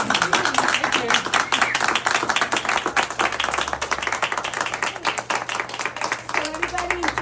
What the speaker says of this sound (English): Let's have a Thank you, guys. huge round of applause.